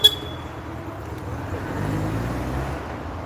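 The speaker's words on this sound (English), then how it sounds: "Now the guy in the Sierra is about to move off." A Ford Sierra's engine idles nearby at a Ford car show, then rises steadily as the car pulls away, with low rumbling and road noise throughout.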